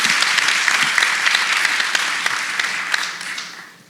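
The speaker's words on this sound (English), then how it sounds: "So I'd love to give them a round of applause because we appreciate them." Audience at an event applauding, a steady dense round of clapping that fills the whole moment and fades out at the end.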